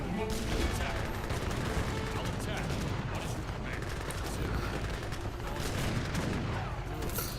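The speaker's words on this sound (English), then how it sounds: "Now comes all the backup artillery, all the mortars, all the little bombards, Napoleon guns, all the good cannons" Heavy artillery barrage in a steampunk naval strategy game: mortars, bombards, Napoleon guns and cannons fire continuously in a dense, loud, overlapping rumble of booms and blasts, with faint talk underneath.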